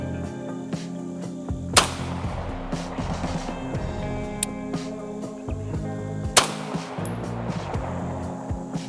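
Two loud, sharp shots from a Staccato 2011 C2 Duo pistol fired outdoors at a steel target 400 yards away, spaced several seconds apart against steady background rumble.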